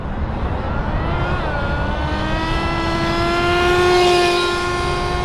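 A Smartech Magic Wheel RC truck, a T-Maxx clone with a two-speed transmission, driving straight on a road with a loud, steady high-pitched engine whine whose pitch climbs and holds, swelling slightly as it nears.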